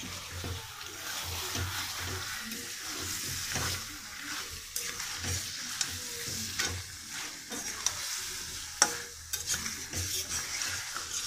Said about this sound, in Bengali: কষাবো আগে মাথাটা ভালো মতন কষাই